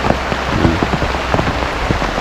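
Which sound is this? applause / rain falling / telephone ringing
rain falling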